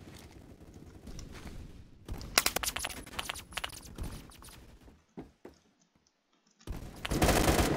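Gunfire in the online shooter Phantom Forces, aimed at the player: a dense rapid burst of automatic shots fills the middle of the clip, then drops to near silence before another loud volley at the end.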